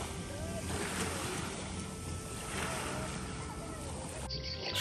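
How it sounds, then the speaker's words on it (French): Small waves lap at a very narrow beach in Slano, a continuous close wash of water with wind buffeting the microphone throughout and a brief drop near the end. "On arrive enfin à la plage. Enfin, la plage, j'en ai jamais vu une aussi étroite."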